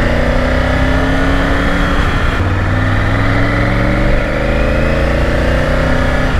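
A Triumph Tiger 900 motorcycle cruises at steady highway speed on the Noida–Greater Noida Expressway, its engine holding a constant droning note with gently shifting harmonics under heavy rushing wind noise, loud and continuous throughout with no talking.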